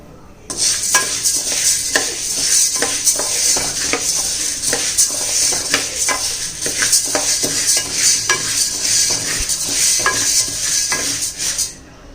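A spoon scrapes and stirs health mix grains being dry roasted in a pan for sathu mavu powder, with steady rhythmic scraping clicks and a continuous dry rustle throughout.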